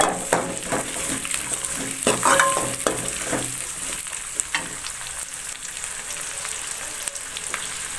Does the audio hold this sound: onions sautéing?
yes